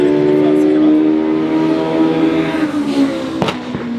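Yamaha motorcycle-engined Volkicar race car with a sequential motorcycle gearbox, its engine holding a loud, steady tone that shifts slightly, with a couple of sharp pops near the end.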